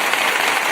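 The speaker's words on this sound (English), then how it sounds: "So I want to do a little applause." A crowd-applause sound effect played during a podcast's guest introduction, a dense steady wash of clapping that holds at an even loudness for its brief length with no talk over it.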